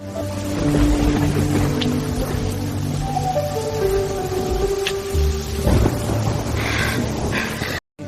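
Steady heavy rain falls outside a shelter, a dense continuous hiss with soft pattering that holds at constant loudness, joined by a low rumble and faint music tones.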